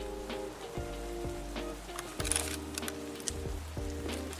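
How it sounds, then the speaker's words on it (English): Rain in the video game Escape From Tarkov, a steady soft hiss of falling drops under a low game ambience, with occasional louder spatters and faint clicks. "Alright, so we got some rain here."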